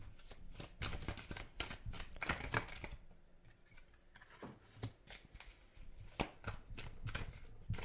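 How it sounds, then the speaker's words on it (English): Tarot cards being shuffled in rapid riffling bursts, close up, with a short quieter pause midway before the shuffling resumes. "I'm reading the cards to you. I just want to shuffle first."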